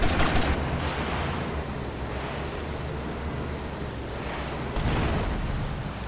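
Heavy gunfire and explosions from a Grand Theft Auto: Vice City mission roar as one loud, dense, continuous barrage, with sharper blasts near the start and again near the end.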